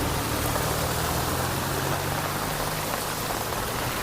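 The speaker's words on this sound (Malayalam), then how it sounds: "അതിശക്തമായ മഴയാണ്" Heavy rain pours down in a dense, constant hiss, steady and enveloping with no pauses, and no voices.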